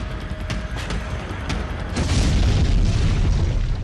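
Ukrainian tanks fire shells during the Russia-Ukraine war near Kyiv, heard as heavy, rumbling booms and blasts that swell louder toward the end, with no talk over them.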